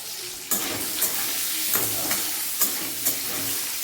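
An egg coated in turmeric and salt fries in a pan with a steady loud sizzle, broken by several sharp stirring or turning clatters.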